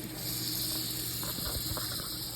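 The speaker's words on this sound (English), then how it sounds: "Now that it's this nice golden color underneath, we're gonna flip it. And let it keep on cooking." Grilled cheese sandwich cooking in butter in a pan, a quiet continuous hiss with faint sizzling and a few soft crackles, steady throughout with no talk.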